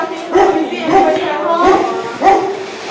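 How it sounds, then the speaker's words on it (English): A dog barks repeatedly in short bursts during door-to-door house visits in a Punggol West, Singapore housing cluster, about four barks spaced roughly evenly, moderately close and clear above a steady background hum. "You can hear a dog barking."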